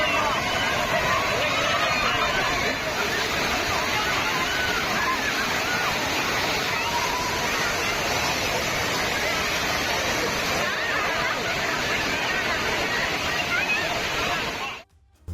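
Water from Kodiveri Dam pours over the spillway like a waterfall onto a crowd of bathing families, a loud, constant roar of rushing water with a faint murmur of voices underneath, steady throughout before cutting off at the end.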